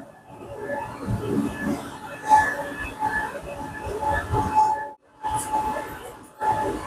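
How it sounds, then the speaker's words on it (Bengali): A metro train rumbles and hums inside the carriage as it pulls away from its first station, with a steady tonal whine, passenger murmur and a brief dip in noise before it resumes. "এখান থেকে ট্রেনটা ছাড়বে।"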